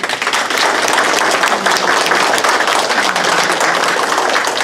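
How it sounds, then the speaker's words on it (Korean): A congregation at a national prayer meeting gives a pastor a hearty round of applause, a dense, loud wash of many hands clapping that starts quickly and holds steady to the end. "오늘 말씀을 전하실 우리 김종훈 목사님께 힘찬 박수 한번 보내주시기 바랍니다."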